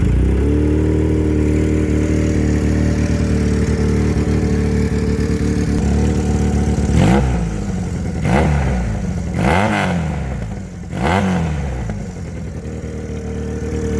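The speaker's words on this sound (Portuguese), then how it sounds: "é um motor bicilíndrico que tem um som que se aproxima um pouco dos motores 4 cilindros" A two-cylinder motorcycle engine runs at a steady idle, then revs sharply four times in quick bursts before settling back to a smooth idle, close and fairly loud.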